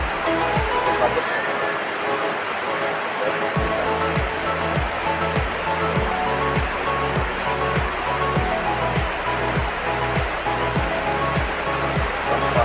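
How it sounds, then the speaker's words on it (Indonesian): The Liang Pandan waterfall near Puruk Cahu roars as a constant broadband rush of falling water, loud and steady throughout, with a faint rhythmic low thumping underneath. "Itu air terjun"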